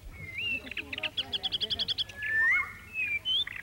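A weaver bird calls along the Nile with a rapid string of sharp, rhythmic chirps followed by thin rising whistles, clear but modest in level over a faint background.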